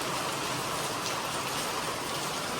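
Steady, dense rain hissing continuously, a close and even downpour with no voices over it.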